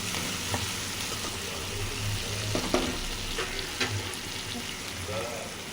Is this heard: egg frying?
yes